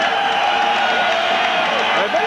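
Arena crowd cheering and applauding as boxer Dave Hilton enters the ring, a steady roar of noise beneath a commentator's voice.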